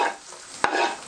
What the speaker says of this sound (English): But I definitely want to cook this chili down, because it seems like it's going to be sharp, spicy